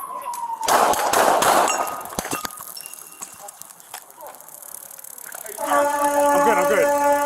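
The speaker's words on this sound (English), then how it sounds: "shots fired, officer needs help" Police gunshots ring out during a confrontation with a woman holding a pipe, a burst of sharp loud cracks early on, followed by clatter, radio tones and a raised voice under street noise.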